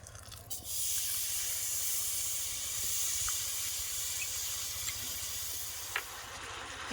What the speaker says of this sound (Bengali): আমি আখের গুড় নিয়ে নিয়েছি এটা এবার আমি কড়াতে দিয়ে দেব